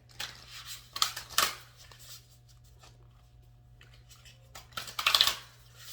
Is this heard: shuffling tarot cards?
yes